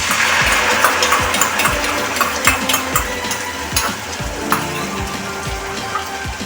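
Chilli chicken sizzles loudly in a hot pan as a mixed sauce goes in, a dense crackling hiss with rapid popping and a few metallic scrapes of stirring throughout, heat turned low.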